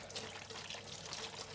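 Hot water runs steadily from a kitchen tap into a sink, a continuous close hiss and splash with no pauses and no talking.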